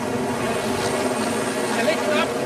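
A helicopter flies through valleys in the Himalayas, its rotor and engine making a steady, loud drone throughout.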